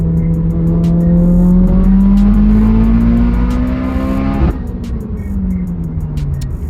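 A 500 WHP Mitsubishi Evo pulls hard through third gear toward 5,000 RPM, its engine note climbing steadily and loud before cutting off abruptly on a shift or lift, then settling into a lower drone.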